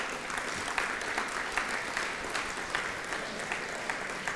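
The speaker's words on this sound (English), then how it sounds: "we'd love to give them a rousing clap" An audience at the Tri-Citian of the Year event claps in a sustained, even wash of applause, moderately loud with individual claps pattering through.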